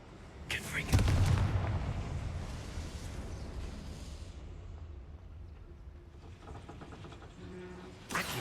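A Confringo fire spell explodes in Hogwarts Legacy, a heavy booming blast that hits hard and rumbles as it fades, with a second sharp burst at the very end.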